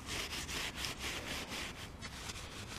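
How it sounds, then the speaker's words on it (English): Vintage 1963 Metzendorf camper's aluminum window trim being polished, a continuous close rasping rub with rhythmic back-and-forth strokes throughout. "it's definitely the easiest way to polish the aluminum around the windows"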